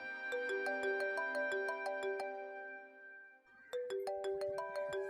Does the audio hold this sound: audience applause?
no